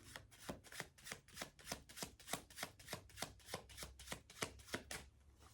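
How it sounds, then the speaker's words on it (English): Tarot cards being shuffled by hand close up in a quiet room, about sixteen quick rhythmic riffling bursts in a steady pattern, soft and crisp with no talking. "One more shuffle."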